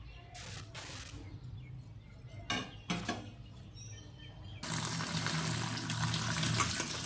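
Boiled chow mein noodles being drained: a few soft clanks of a pot, then water pouring steadily through a strainer into a sink, close and moderately loud, with no talking.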